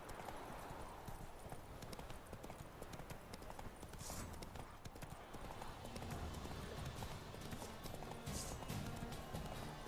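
Horse hooves clip-clop at a steady trotting rhythm in The Witcher 3, continuous and fairly close, with faint game ambience around them.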